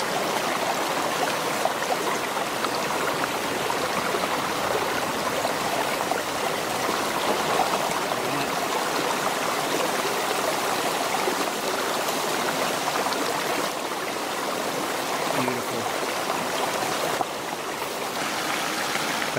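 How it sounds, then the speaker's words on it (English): Mountain spring water flows steadily in the Pennsylvania wilderness, a continuous close bubbling rush of a small stream with no pauses. "That right there is what you call mountain spring water."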